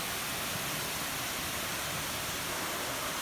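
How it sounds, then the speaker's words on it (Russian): The Agur waterfalls in Sochi roar as a dense, constant broadband rush of falling water, loud and close with no pauses. "Так что нам повезло, и будет водопад."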